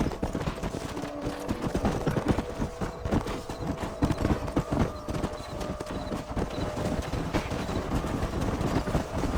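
Dense, rapid hoofbeats clatter continuously as a group of horses trots in Red Dead Redemption, with a loud, busy rumble throughout.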